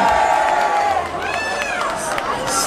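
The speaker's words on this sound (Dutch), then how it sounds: "Geef ze een daal applaus" A festival crowd claps and cheers for a band being introduced, a loud blended roar of applause and whoops with shouting voices over it.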